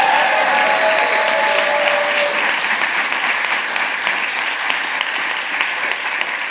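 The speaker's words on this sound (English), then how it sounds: "You can clap for that because it's very good." Sustained, loud applause from an indoor audience at a presidential bill-signing ceremony in Washington, D.C., steady and dense for the whole stretch with no voices over it.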